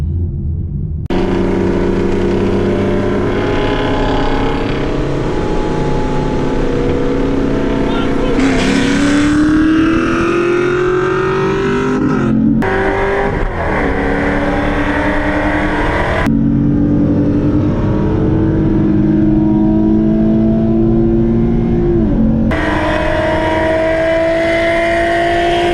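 Ford Mustang V6 with full bolt-ons accelerating hard in a 40 mph roll race, engine note climbing through several gear shifts with steady loud roar and rising pitch sweeps over about 25 seconds.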